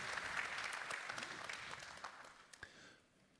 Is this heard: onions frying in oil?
no